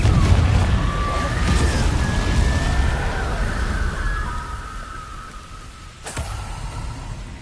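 Confringo fire curse explosion in a Hogwarts video game: a loud booming blast swells and rumbles for several seconds with a tonal whine, fading before a sharp crack near the end.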